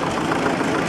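A Zetor 25 tractor engine idles steadily at close range, a dense continuous mechanical rumble with no talk over it, sustained through the short moment.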